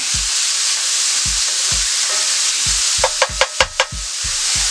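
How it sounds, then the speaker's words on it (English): Onions and green pepper sauté in a skillet with a constant loud sizzle, while a spoon knocks against the pan in regular low thumps that quicken into a short run of sharper scrapes near the end. "going to stir this up in here. And we're going to get these nice and sauteed down."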